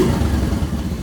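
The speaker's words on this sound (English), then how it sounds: "when you rev the throttle" A Honda Navi motorcycle's small engine is revved with a quick blip of throttle, a close, rough, clattery buzz lasting about a second with no talking.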